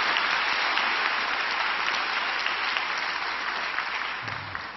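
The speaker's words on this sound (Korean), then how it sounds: "다시 한번 우리 축복의 박수 부탁드립니다." Congregation applauding during a dawn prayer service at a church, a dense steady wash of clapping that holds for several seconds before tapering slightly at the end, with no talking over it.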